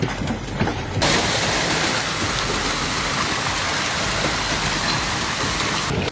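Hail pouring down during a hailstorm in South Texas, a dense, steady roar of ice pellets striking surfaces, loud and continuous after a quieter first second, with no voices.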